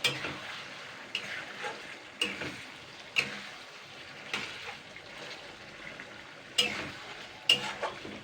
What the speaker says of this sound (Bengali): দুই মিনিট আমি আবারও নাড়াচাড়া করে নেব আদা রসুনটা দিয়ে